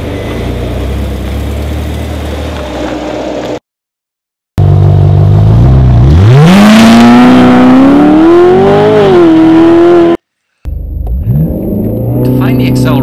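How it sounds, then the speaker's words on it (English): A Ferrari California accelerating from a standstill, its engine note climbing steadily in pitch through a loud, sustained run, broken by short gaps, with interior cabin noise around it. "we're going to find out what the 0 to 60 acceleration is for this Ferrari California"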